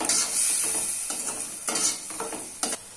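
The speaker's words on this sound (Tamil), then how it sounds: "நல்லா மிக்ஸ் பண்ணிக்கலாம்." Curd masala being stirred into hot oil in a pan, a soft sizzle under repeated scraping strokes and clicks of the spoon, close up with no voices.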